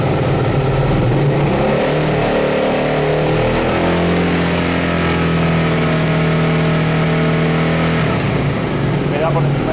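Hyosung GT 650 R motorcycle engine held at a raised rev of about 5000 rpm during a charging-system check, a loud steady mid-pitched drone close up that drops away near the end.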